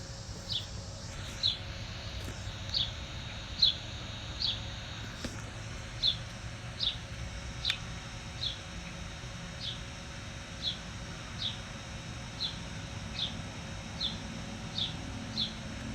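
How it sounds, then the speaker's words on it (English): Outdoor birdsong: a single high, thin chirp repeats at an even pace, about once a second, fairly distant over a faint steady background hiss, with no talking. "Oh yeah, there's a lot of birds."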